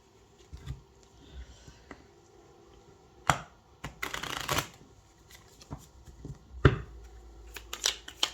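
Tarot cards shuffled by hand, face-up and face-down mixed together, making a series of crisp papery riffles and bursts of flicking at an irregular rhythm, close by, with no talking.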